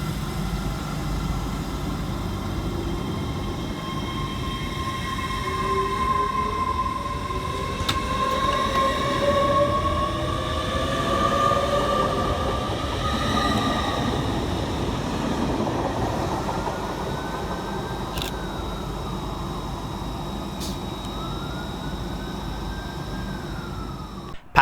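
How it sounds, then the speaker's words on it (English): Two coupled CrossCountry Class 220 units, 220013 and 220003, race through Chester-le-Street station with a loud continuous rushing rumble, whining motors and a brief rising tone, alone and close by throughout. "Passing fast through the station for CrossCountry is 220013 and 220003, working 1 Sierra 35 from Bristol Temple Meads through to Edinburgh Waverley."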